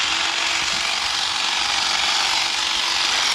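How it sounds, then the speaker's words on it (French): A small electric hair clipper trims garden lawn edges, giving a steady, loud, close buzzing hum that runs unbroken for the whole stretch. "En fait, c'est une petite tondeuse à cheveux."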